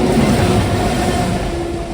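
An express train hauled by a WAP-7 electric locomotive rumbles past at a level crossing, a loud, steady, low roar with constant wheel-on-rail noise, close by and without talk.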